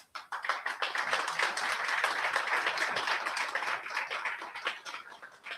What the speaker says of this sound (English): Please give a huge round of applause to our Buyo artists